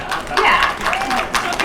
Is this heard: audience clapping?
yes